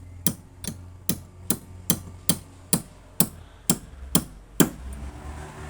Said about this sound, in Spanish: ahora voy a hacerlo con un martillito, si fuera despacito, despacito, con cariñito